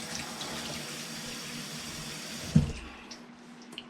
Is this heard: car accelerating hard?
no